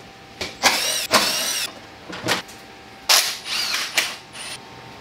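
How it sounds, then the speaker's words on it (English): Plastic clips snap and housings rattle while a BMW air intake box and lower hose are pulled off, a series of loud close scraping and rasping bursts with short pauses between. "So I'm just going to quickly remove the air intake box and the lower hose."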